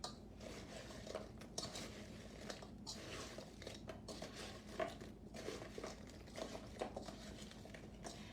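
A snack mix dusted with sprinkled Parmesan cheese is tossed in a bowl, making a steady, faint rustle with soft crinkles and light scraping taps throughout.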